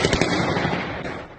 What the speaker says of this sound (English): the sounds of war grew louder in Kyiv, gunfire and explosions